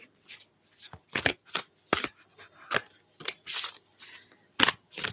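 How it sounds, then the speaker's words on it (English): Tarot cards are shuffled by hand in quick, repeated riffling bursts, close and fairly loud, with short pauses between each burst and no talking. "I have to shuffle them a bit more."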